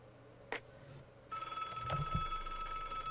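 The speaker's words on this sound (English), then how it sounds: "Do you mind if I use the phone?" A telephone in the Broken Sword: Director's Cut video game rings quietly, with a thin, steady electronic ring starting after a short click and continuing over faint background hum, with no talking.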